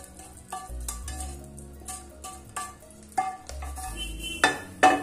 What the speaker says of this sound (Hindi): तो फ्रेंड अब इस तड़के को हम इसके अंदर ट्रांसफर कर लेंगे